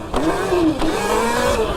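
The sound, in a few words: upgraded Sur Ron electric dirt bike accelerating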